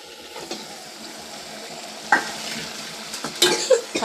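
Mutton pieces added to softened onions sizzle steadily in a hot pan, close and moderately loud, while a spoon stirs and scrapes the pan in a few sharp bursts.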